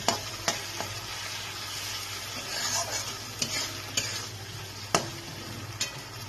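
A paste of ginger, garlic, green and red chili and cumin being stir-fried in a pan for a pomfret fish jhal, with a continuous close sizzle broken by sharp periodic clicks and scrapes of the spatula against the pan.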